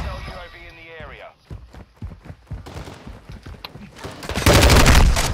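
Bursts of gunfire ring out in the video game Call of Duty: Modern Warfare II during a Hardpoint match on Mercado Las Almas. Rapid shots and footsteps come in short clusters after a spoken voice, ending in a loud sustained volley.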